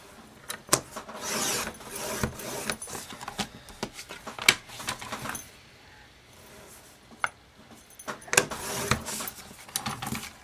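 A hand saw cuts a wooden piece down to 4 inches for a card file holder. Close, scratchy rasping strokes come in irregular bursts, with a short quieter pause midway.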